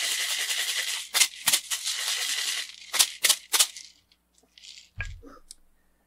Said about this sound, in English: a maraca where the handle is wood, but the actual bulb area that contains whatever's inside the shaker is actually made out of leather